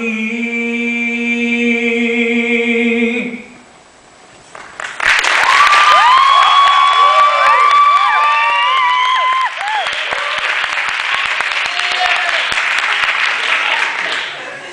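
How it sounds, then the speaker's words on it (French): Theatre audience bursting into loud, sustained applause with some cheers after a sung line of a song, clapping filling the room for about ten seconds after a held musical chord. "parce que vous m'avez applaudi là, je m'y attendais pas"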